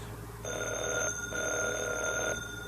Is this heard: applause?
no